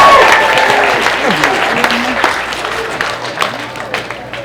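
A convention panel audience claps and cheers, starting loud and dense, then thinning into scattered claps and faint crowd chatter over a few seconds.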